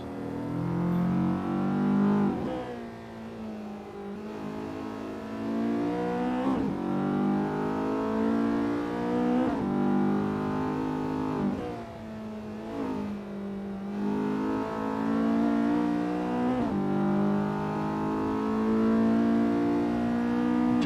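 Race cars accelerating off the start line in the video game Touge Battlegrounds, engines revving loud and close, climbing through several gear changes with short dips between each pull.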